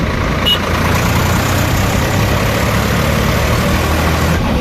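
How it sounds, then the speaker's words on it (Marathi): A brand-new tractor heading out for rotavator work on a farm runs with a loud, steady diesel engine rumble, close and continuous with a deep low-end drone and no talking. "पहिल्यांदा रोट्या मारायला चाललो आम्ही फर्स्ट टाइम नवीन ट्रॅक्टरवर"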